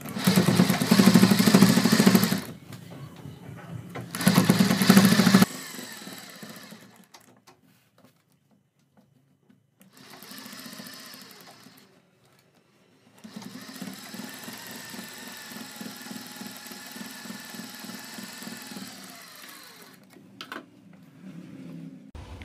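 An electric sewing machine stitches a strip onto a kurti neck in loud, whirring bursts, separated by pauses and quieter stretches, with a long, steady run of stitching near the end.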